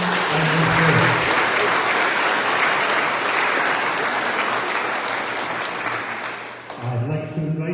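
An audience at a municipal meet-the-candidates event in Antigonish gives a sustained round of applause, dense and steady for several seconds before tapering off as a voice resumes.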